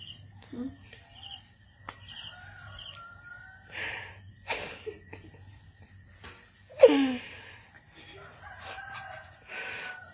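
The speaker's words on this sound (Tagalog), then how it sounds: "tumitalak na yung mga manoks" Chickens and roosters crow and cluck in a rural yard, with repeated crows rising over a steady chorus of crickets and insects, one crow loud and close near the middle and others farther off.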